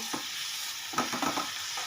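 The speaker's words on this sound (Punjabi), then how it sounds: "ਇਹਨੂੰ ਮਿਕਸ ਕਰ ਲਓ" A spatula stirs a tadka of garam masala, red chilli powder and tomato paste in a hot pan: a soft continuous sizzle broken by a few brief scraping strokes near the middle, no talking.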